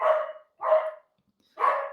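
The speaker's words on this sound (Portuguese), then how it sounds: "o cachorro falando que a hora do almoço está chegando" A dog gives three separate barks, evenly spaced and fairly close, with silence between them and no voices.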